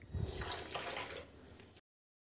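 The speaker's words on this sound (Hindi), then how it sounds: "दो तजपत्ता को तोड़कर डाल देंगे और तीन गिलास पानी डाल देंगे" Three glasses of water poured into a pressure cooker of chickpeas for chhole, a short splashing gush lasting under two seconds before cutting to silence.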